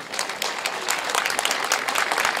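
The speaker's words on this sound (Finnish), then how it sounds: "Aplodit." An outdoor crowd claps in brief, dense applause at a town summer opening event at the market square and lakeside park in Heinola, Finland.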